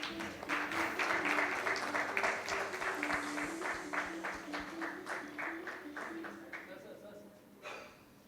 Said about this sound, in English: Let's have a round of applause for our speakers for this amazing discussion.